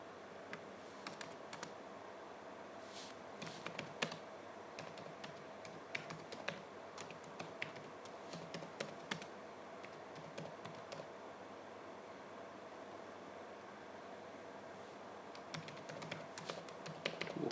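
Steady keyboard typing as CSS code is entered on a computer, the keys clicking in quick irregular runs across a faint background hiss, with no voices.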